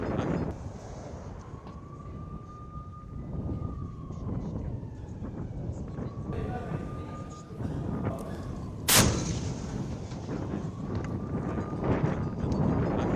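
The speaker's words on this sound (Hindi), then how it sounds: "तोप से लगातार हमले हो रहे हैं" Repeated artillery cannon fire in Gaza City, heavy booms and rumbling blasts recurring through a constant noisy background, with one sharp loud crack near the middle and a faint siren-like tone drifting over it.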